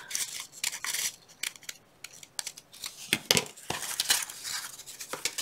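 Scissors snip through a paper snow embellishment, a run of close, crisp cutting crunches and blade clicks in uneven bursts with brief pauses between.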